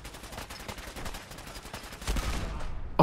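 Cannonball weapon firing in Fallout 4, a rapid series of sharp repeated shots at moderate volume, growing heavier toward the end with a final loud hit.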